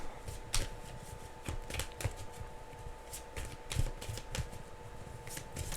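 Tarot cards being shuffled close by, a quiet run of soft riffling flutters and light snaps with brief bursts spaced irregularly, heard alone without any talk.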